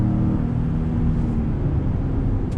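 Steady low engine rumble inside a 2020 Ford F-150 Platinum pickup truck accelerating hard, heard as continuous dense cabin drone without speech.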